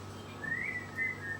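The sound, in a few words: person whistling while cooking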